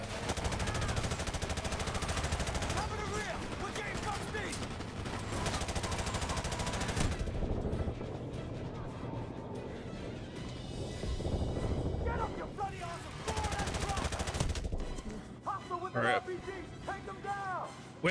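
Enemy gunfire in Call of Duty: Modern Warfare rattles in dense bursts under excited talk and loud game ambience, with a heavy barrage early on that thins to a quieter stretch before picking up again.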